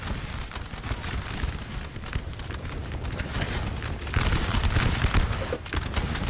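Musket volleys in Napoleon Total War, a 4v4 battle, roll as a dense, continuous crackle of many overlapping shots, steady and loud throughout, swelling slightly toward the end.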